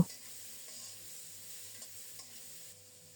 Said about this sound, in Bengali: আলুটাকে কিছুক্ষণ নেড়ে চেড়ে কষিয়ে নিয়ে তারপরে বাঁধাকপি দেব